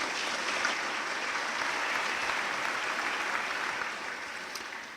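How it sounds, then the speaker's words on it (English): Sustained applause from a crowd gathered at a community college's opening day convocation, a dense, steady patter of many hands that holds for several seconds before easing slightly toward the end. "let's all give ourselves a great round of applause"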